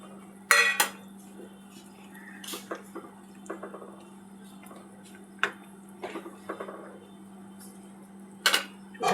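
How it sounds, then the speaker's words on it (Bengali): Fried lentil fritters go into a pot of simmering tamarind sauce with clinks and taps of a metal spoon against the pot, scattered soft plops and scrapes at close range. "এবার দিয়ে দেবো ভেজে রাখা বড়া।"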